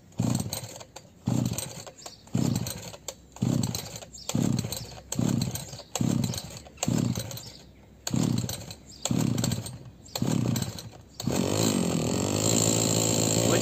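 Two-stroke chainsaw being pull-started, about ten rhythmic rasping cord pulls in a row, each a short burst with gaps between, before the engine catches and runs steadily at the end.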